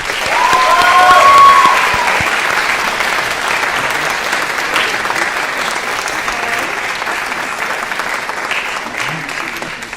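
Sustained audience applause for senior inductees at an NHS and NJHS induction ceremony, a full, steady wash of clapping that swells early and continues throughout, with faint voices and a whistle in the crowd.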